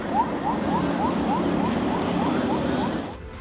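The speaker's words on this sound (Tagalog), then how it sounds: "binasag ang katahimikan ng malakas na tunog ng sirena mula sa CCG vessel" A loud, steady wailing siren from a China Coast Guard vessel, with a repeating rising chirp pattern, sounding continuously over a low rumbling background before cutting off abruptly.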